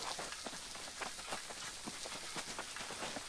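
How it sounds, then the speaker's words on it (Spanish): Continuous rain in the New World video game, an even close hiss of drops with faint rhythmic patters, steady and alone with no voices. "Ah, llueve acá, mirá."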